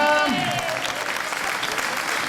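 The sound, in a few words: applause for the Castellar jota dancers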